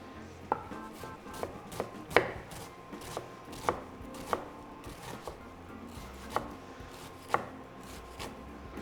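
Knife chopping ingredients for a sofrito at an organic food showcooking event in Asturias, a series of sharp, close taps on a cutting board at an irregular rhythm, with a soft kitchen background and no talk.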